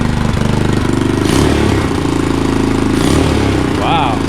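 A Boom Vader Grom clone motorcycle idles just after its first start, a loud, steady, fast-pulsing single-cylinder thrum through its exhaust with slight rises in pitch, while someone talks over it.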